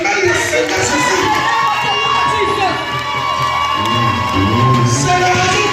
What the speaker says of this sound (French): Est-ce que tu peux acclamer le Seigneur Jésus?